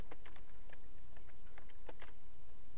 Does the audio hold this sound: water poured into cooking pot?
no